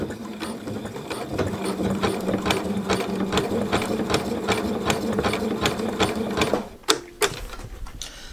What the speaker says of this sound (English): zigzag stitch is going to start here and end on that rope